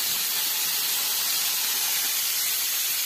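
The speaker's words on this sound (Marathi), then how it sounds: "तेल तपलेलं आहे, त्यामध्ये मी जे वाफवलेले फ्लावर आहेत ते टाकून घ्यायचे आहे" Steamed cauliflower hits hot oil in a pan, giving a loud, steady, bright sizzle that holds evenly from start to finish with no pauses.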